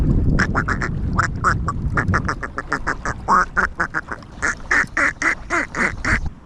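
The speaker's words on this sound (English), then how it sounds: "See that ducky right there with his feather on his back, sticking up?" Ducks on a lake quack in a rapid, repeated series of loud, close calls, one bird leading the others, with the chorus continuing steadily throughout.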